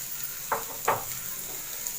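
Chopped onion and green chili sauté in a pan over medium heat, giving a soft steady sizzle with two brief stirring scrapes near the start.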